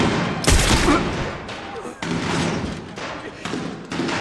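A gunshot in the TV series Babylon Berlin: sharp, loud bursts with heavy thuds over a tense dramatic soundtrack. Background voices are heard.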